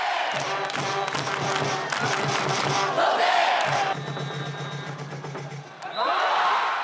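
Crowd of baseball fans at the 2014 Korean pro baseball opening game between Lotte and Hanwha roars and chants in a big stadium, with rhythmic thumping drums and cheering surges throughout.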